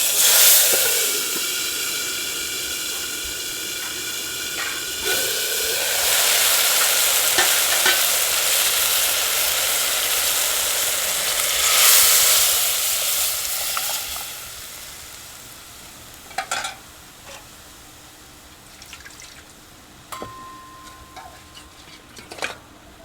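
Whole curry leaves drop into hot oil for a chilli kadhi, giving a loud, bright sizzle that swells and fades over several seconds, followed by quieter frying with occasional spoon clinks and taps.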